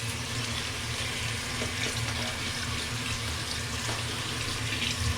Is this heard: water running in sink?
yes